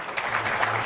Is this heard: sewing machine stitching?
no